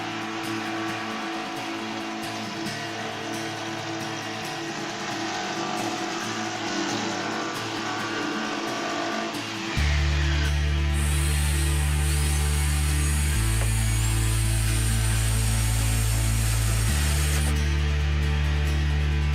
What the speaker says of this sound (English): And again, jigsaw time!